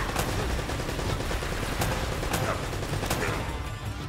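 Turret gunfire in the video game Uncharted: Drake's Fortune, a continuous, loud barrage of rapid shots with a few sharper cracks standing out above the din.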